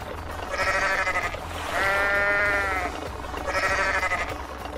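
At a sheep farm in Cha-am, sheep bleat in three loud, wavering calls, each lasting about a second, close by, with a low hum of background noise between them.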